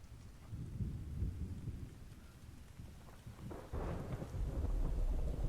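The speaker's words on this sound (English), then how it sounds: "It's a storm" Thunderstorm with rain in the survival game Infected: steady rainfall with low rolling thunder that swells louder toward the end, no voices.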